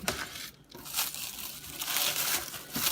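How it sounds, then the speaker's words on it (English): A block of melt and pour soap being cut, close up, with crinkly scraping and crunching strokes coming in uneven bursts. "the first step is I need to cut this block of soap"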